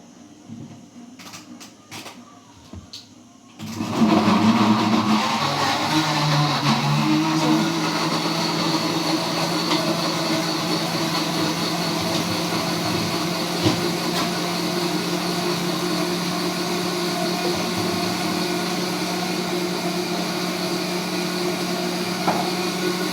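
A quiet rattle gives way to an electric blender starting up on onion, tomato and a little water, then a steady loud whirring drone that continues without pause.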